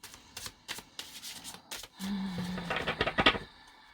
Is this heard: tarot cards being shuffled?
yes